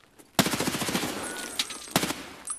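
Rapid video game gunfire erupts as a player pre-fires at an enemy, a loud sustained burst of automatic shots followed by a second short volley, with no talking.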